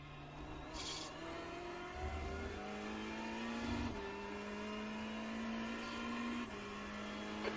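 A Ferrari 488 GT3 Evo racing around Le Mans in iRacing, its engine note climbing through the gears with sharp shift breaks, loud and steady under acceleration.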